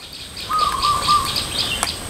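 Prinia birds call near their nest in tall alang-alang grass, a thin sustained whistle-like chirp rising out of steady outdoor hiss for about a second, with a brief sharp note near the end.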